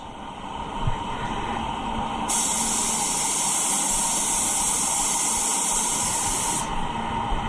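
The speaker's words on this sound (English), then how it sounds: "I'm just changing my angle around the rim so the overspray hits on different places differently" Spray gun applying PPG Shadow Chrome paint to a wheel rim, a steady loud hiss of atomized paint that runs continuously for several seconds over a background of shop noise.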